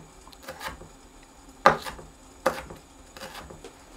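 A knife slices a red chili pepper on a cutting board, giving two distinct crisp chops over faint rubbing and handling noise, close up and quiet, with no talking.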